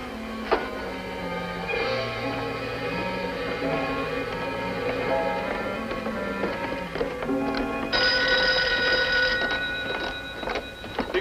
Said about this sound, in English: I'll answer the phone.